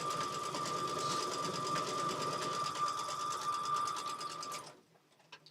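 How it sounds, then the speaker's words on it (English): A sewing machine stitches log cabin quilt blocks together in a steady, continuous whir with a rapid mechanical rhythm. It runs loud and close for about four and a half seconds, then stops abruptly, leaving near silence. "we're going to go ahead and get these sewn up together."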